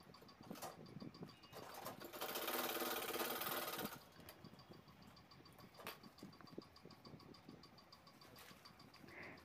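Sewing machine stitching a handbag's side lining and inner fabric together, a steady mechanical whir with a louder, denser burst of running stitches partway through, close and clear with no talking.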